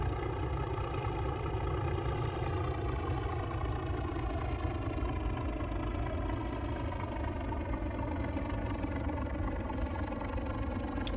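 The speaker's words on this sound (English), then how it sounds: "That engine's great. It sounds awesome, doesn't it?" A Class 37 diesel locomotive in Train Simulator drones steadily at a loud idle-like throttle, its deep rumble and layered engine harmonics continuous throughout with a few faint clicks, and no talking.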